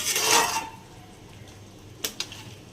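Masala for a prawn and banana flower mocha sizzles in a pan with a hissing burst at first, then fades to a quiet simmer, broken by two short metallic clinks of a spatula against the pan.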